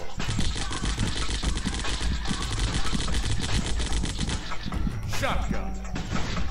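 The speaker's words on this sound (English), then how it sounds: "Assault rifle." Assault rifle gunfire in a childhood video game, fast rattling bursts that run almost continuously before cutting off near the end, with someone talking over the shooting.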